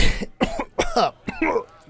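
A voice imitates a troll coughing, giving five harsh, close coughs in a rough rhythm, each ending in a rasping, sputtering tail.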